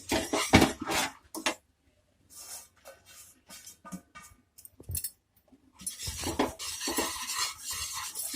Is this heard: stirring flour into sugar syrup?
yes